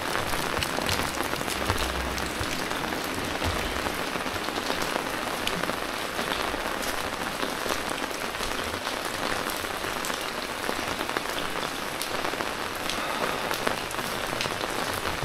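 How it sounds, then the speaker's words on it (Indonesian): Rain patters steadily on an umbrella in a dense, even hiss of drops with scattered sharper taps, close and continuous with no talk, on a wet evening in Dieng. "terdengar ya suara di payung letok letok letok letok nah hujan hujannya dari sore itu belum reda"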